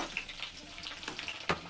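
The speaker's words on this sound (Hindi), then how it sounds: "अब हम डालेंगे लहसुन." Garlic sizzles in a hot pan with cumin, a soft, steady crackle with small pops and a spatter close by, and no speech.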